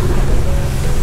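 Strong sea wind roars steadily off the water at Boracay, where boats and parasailing are nearby, blending with surf into a continuous loud rush for the whole moment with no voices.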